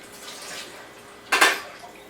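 Utensil coated in homemade chocolate spread given a quick wash, a soft running-water wash followed by a single brief splash and clatter near the end, close by.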